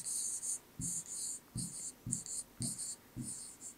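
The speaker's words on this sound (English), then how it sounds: "let me write an example for this one here" Marker strokes on a board as a teacher writes out an example sentence during an English grammar lesson: five scratchy bursts in steady rhythm, each opening with a soft tap, close and fairly quiet with no talk.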